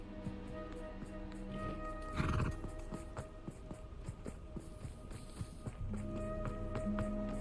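Rapid hoofbeats of a horse running in the video game Hogwarts Legacy over steady background music, with a brief snort or whinny partway through.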